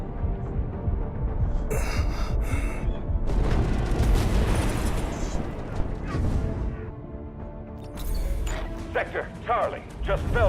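Artillery barrage in the video game Delta Force: dense booming explosions and crashing impacts roll continuously over heavy battle noise, with bursts of crackle and rumble throughout.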